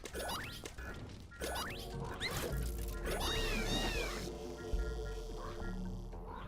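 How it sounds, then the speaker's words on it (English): Cats in the video game The Swords of Ditto meow repeatedly, several short rising and falling cries overlapping with game music and effects, moderately loud in a busy mix. "Shut up, idiot cats."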